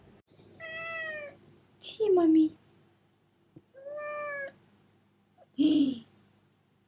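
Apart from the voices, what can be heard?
cat meowing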